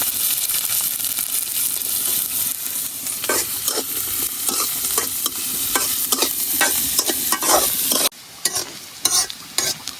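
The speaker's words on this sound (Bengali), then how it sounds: "এখন বর্তার জন্য পেঁয়াজ আর রসুন গুলা বাইজে নিয়াম" Onion and garlic sizzle in hot oil for a Bengali dish, with a steady fry broken by repeated scraping and clinking stirs of a metal spatula, close up, no talking.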